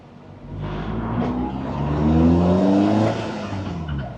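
A Lotus Elise sports car on a road, its engine revving up through rising gears, loud and close from inside the car, building to a peak and easing slightly, with no talk.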